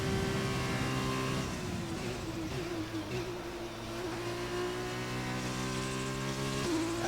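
A Formula 1 race car engine in the F1 2020 video game whines at high revs, a steady sustained drone that dips briefly as it shifts gears, with no one talking.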